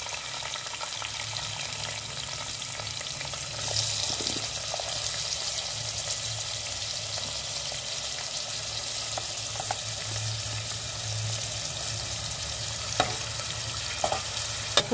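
Onions and mustard seeds fry in a pan with a steady, low sizzle, occasional stirring scrapes and small pops, with no talking.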